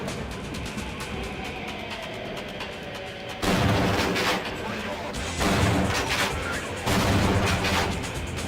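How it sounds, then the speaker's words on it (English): Video-game gunfire from a soldier, arriving as three loud separate bursts of shots over a steady background of game noise. "He started shooting at me."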